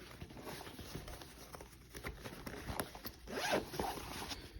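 A zipper on a tablet bag compartment is pulled in short repeated rasping strokes, close and soft, ending in a quicker, louder zip.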